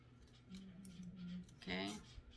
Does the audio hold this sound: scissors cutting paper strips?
yes